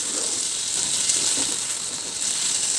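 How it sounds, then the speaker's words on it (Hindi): Washed potatoes fry in a pan and are turned over and over, giving a steady, close sizzle with a crackling hiss that continues unbroken throughout, with no voices. "थोड़ा सा भूनना है, इनका कलर चेंज होने तक हम इसे पलट के भूनते रहेंगे।"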